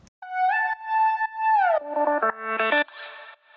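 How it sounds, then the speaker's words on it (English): A pitched-up vocal fill remade on a Serum synthesizer plays alone, a bright tonal line that holds, slides down, then breaks into short choppy stepped notes with an echoing tail. "One of them is the guy's vocals pitched up and messed with"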